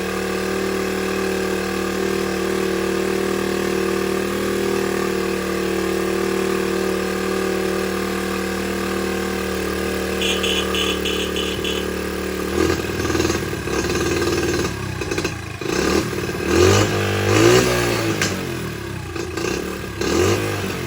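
A 1976 Honda CT70 motorcycle that has sat for a long time with a carburetor needing cleaning idles steadily and close, then revs up in several uneven surges with clattering mechanical noise.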